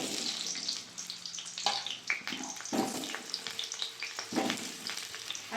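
Cut potatoes sizzle in hot mustard oil in a wok for meat curry, a steady crackling fry close up with occasional stirring clatters.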